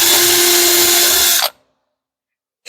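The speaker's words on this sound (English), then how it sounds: "I like to use one of these self-centering bits to drill my pilot holes with." A power drill with a self-centering bit bores a pilot hole into a wooden jig: a loud, steady whine lasting about a second and a half, then it stops dead, followed by silence and one brief burst at the end.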